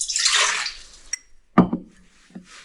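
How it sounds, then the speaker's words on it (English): Water is poured for pizza dough: a short splashing pour into a container, then a few separate drips and small splashes, close and alone. "We take 200 milliliters of water"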